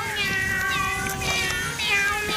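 Domestic cat gives a drawn-out, whining meow close to the mic, wavering in pitch and rising again near the end, heard alone without any talking.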